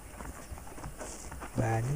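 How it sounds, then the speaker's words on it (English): Horse hooves clip-clop in the Western video game Red Dead Redemption, a quick run of soft hoofbeats under ambient game sound, followed by a louder low tonal swell near the end. "The horses are saddled up over here."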